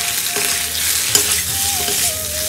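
Rice flour scrapes and sizzles as it is stirred and lightly roasted in a pan for an Indian festival dish, a steady close frying hiss with spoon scrapes and no talk.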